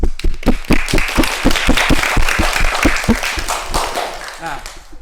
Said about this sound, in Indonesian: Tepuk tangan untuk kalian ya